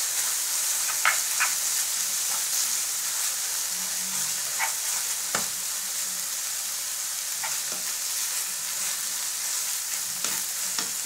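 Carrots, onion and celery frying in a pan for a homemade bolognese, a continuous bright sizzle with scattered spoon scrapes and taps as they are stirred, close and steady with no voices.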